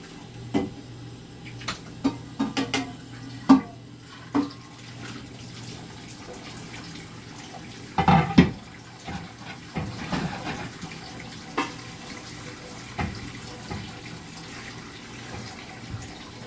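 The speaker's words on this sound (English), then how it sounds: "let me rinse this" Tap water runs faintly in a sink while catfish nuggets are rinsed, with scattered clinks and splashes of handling, loudest briefly around the middle.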